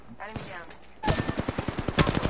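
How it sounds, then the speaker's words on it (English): Rapid bursts of gunfire in a battle royale video game, a dense run of sharp cracks in quick succession that grows louder midway, following a stretch of quieter game sounds. "they're shooting from across the way"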